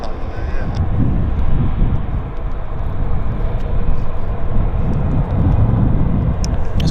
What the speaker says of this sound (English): This aircraft is inbound from Edmonton.